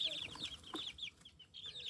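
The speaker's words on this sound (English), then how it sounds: "That's the chickens again." Faint chickens clucking and chirping in short bursts at a distance, soft and intermittent over low background noise.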